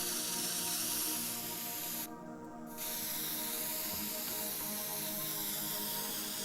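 A spray can sprays paint in the video game Teardown, a loud continuous hiss that briefly cuts out and then resumes.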